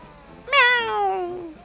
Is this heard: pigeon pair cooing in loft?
no